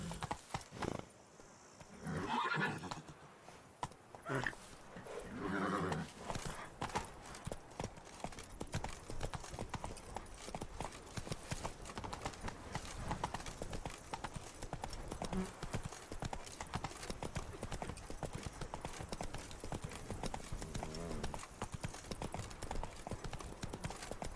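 A horse in The Witcher 3 trots with a steady clip-clop of hooves, continuous and fairly close, with a brief whinny early on amid game ambience.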